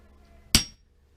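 A single sharp metallic strike of a hammer on an old, dried-out axe, close and loud with a short ringing tail, set against near-silence.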